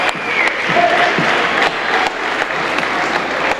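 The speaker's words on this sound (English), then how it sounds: "Gets the ovation from the crowd." Steady, loud applause and crowd cheering fill a high school gym on senior night at a girls' varsity basketball game between the Smith Center Lady Red and Trego Lady Eagles, sustained throughout without a break.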